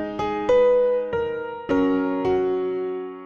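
Several grand piano notes and chords from a software plugin on microphone setting B, played one after another, each ringing and fading, bright and close-up, no voices over them.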